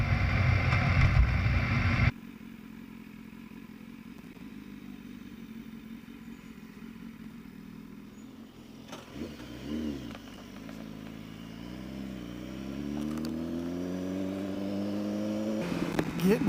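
A 2019 Aprilia Tuono 1100 motorcycle accelerates onto a freeway, engine note climbing through rising revs after a steady cruising drone, with strong wind rush throughout.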